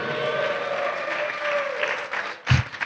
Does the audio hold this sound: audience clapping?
yes